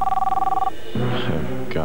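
A telephone rings with a steady warbling electronic trill for under a second, then stops as a voice starts talking over a televised football highlight.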